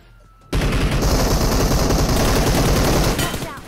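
Sustained automatic gunfire from the mobile battle royale game BGMI, a loud dense burst that starts abruptly and rattles on for about three seconds before tapering off.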